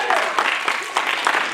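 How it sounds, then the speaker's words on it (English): A school audience applauds a visiting comics artist at an AHS event, a short burst of clapping from a nearby room-sized crowd. "Let's give him a round of applause."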